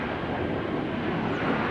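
A TUI Airlines Belgium plane arriving at Schiphol Airport, heard as a steady broadband engine roar, continuous and fairly loud, with no voices.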